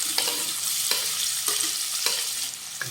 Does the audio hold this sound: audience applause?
no